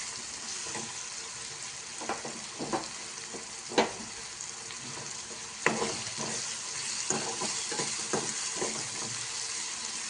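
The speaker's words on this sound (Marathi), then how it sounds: "आता कांदा भाजत येत आहे" Onion frying with turmeric powder in a pan for a spicy prawn dish, a continuous soft sizzle with occasional light scrapes and taps of a spoon stirring, close and moderately quiet, without speech.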